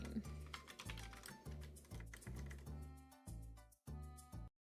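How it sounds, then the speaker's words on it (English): Rapid clattering keystrokes from a noisy computer keyboard, loud and close, in continuous bursts with brief pauses before stopping abruptly. "I have 2 keyboards, and I just used my noisy one"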